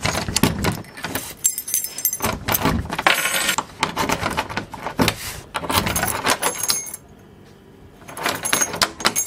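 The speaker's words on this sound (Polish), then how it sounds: "Okej, znalazłem trochę klucze," A bunch of keys jangles and clinks in a convenience store at night, close and loud in repeated bursts of metallic rattling with a short quiet pause near the end.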